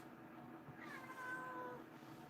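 A house cat meows and cries indoors, one drawn-out, rising and falling wail over a quiet room, faint and somewhat distant, with no one speaking.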